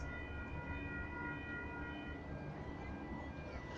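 Sydney train pulling into a station platform, a steady rumbling roar with faint high tonal whine from the carriages, continuous and moderately distant, no voices.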